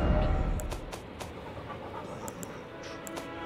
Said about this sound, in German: Hechel, Hechel, Hechel.